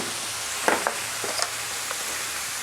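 Cabbage being stir-fried in a pan with ginger and chillies for a Gujarati sambharo, giving a steady soft sizzle with a few brief clinks and scrapes of stirring, moderately close and with no talk.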